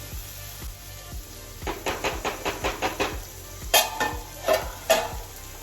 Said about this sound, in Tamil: இப்போ இது நல்லா பொரியட்டும், வதங்கி ப்ரௌன் கலராக மாறட்டும்.